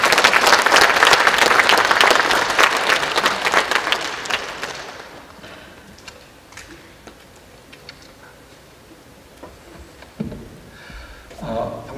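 An audience in a church gathering claps to welcome a missionary, loud sustained applause that fades after about four seconds into a quiet room with scattered small sounds and a few faint knocks.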